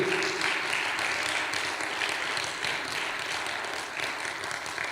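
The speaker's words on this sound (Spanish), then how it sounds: "Podemos darle un aplauso al Señor esta tarde" A church congregation applauds during a Spanish-language sermon, a steady wash of many hands clapping together at moderate loudness, continuous throughout without a break.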